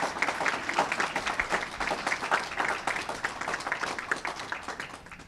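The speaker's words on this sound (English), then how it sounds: "Round of applause for the mayor for that." Audience applause for the mayor at a building emissions legislation signing, a sustained crowd clapping with a dense, fairly even patter that eases slightly toward the end, heard without talk.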